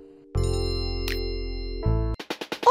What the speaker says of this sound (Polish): O, dostałam SMS.